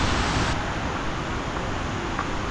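Water rushes over the spillway at Bandung Waterfall in Bali, a dense, loud, unbroken roar filling the whole stretch up close.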